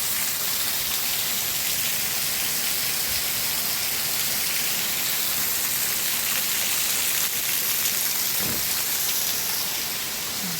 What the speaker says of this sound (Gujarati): અત્યારે 3:30 થયા છે, વરસાદ વધી ગયો છે, સવારનું ચાલુ જ છે